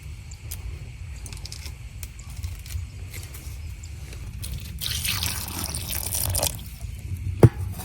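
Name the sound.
washing tamarinds in water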